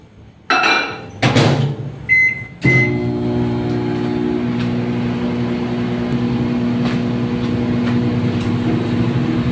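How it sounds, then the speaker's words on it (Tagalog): A microwave oven warming peanut sauce for spring rolls, starting with a few door and button clunks and beeps, then settling into a steady close hum with a tonal drone for several seconds, alone with no talk. "Ngayon, ima-microwave ko lang to ng mga 10 seconds."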